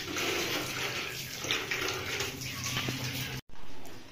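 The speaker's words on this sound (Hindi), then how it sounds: "कुछ पानी हम अपने मुर्गों के जो बर्तनों में वो भी डाल देंगे" Water pours steadily into the drinking containers of pet roosters, a continuous broad rushing splash that breaks off briefly near the end and then resumes.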